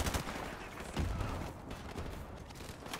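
Gunfire in the Call of Duty 4: Modern Warfare campaign, a burst of rapid shots near the start and a heavier blast after a second, then a fainter rattle of distant firing.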